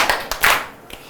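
A few scattered, uneven hand claps from pupils in a classroom, applauding a classmate in brief bursts that quickly fade to quiet.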